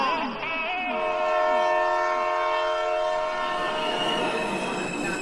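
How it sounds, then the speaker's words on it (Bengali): A train arrives with a long, loud multi-tone horn blast sounding right after a brief swoop, then the rolling rumble and clatter of wagons continues close by as the horn fades. "ট্রেন চলে এসছে।"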